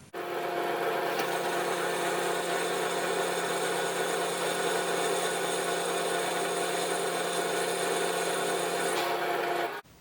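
A milling machine end mill spinning at 780 RPM cuts mild steel with a steady, continuous grinding hum that holds evenly for nearly ten seconds and then stops abruptly, no voices.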